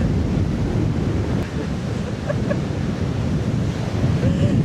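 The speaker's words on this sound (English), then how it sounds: "It's a rough old sea today." Rough sea waves crash steadily against the coast in Portugal, a loud, continuous roar of surf with strong wind noise buffeting the microphone throughout.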